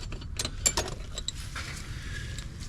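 Wrench clicks and metallic ratcheting clatter while tightening bolts on an IDI diesel starter motor, a few sharp close taps over a low background hum.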